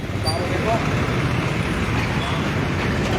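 Busy road traffic around the Jammu bus stand area, a dense continuous roar of engines and tyres from cars, buses and trucks, fairly loud and steady with no single vehicle standing out.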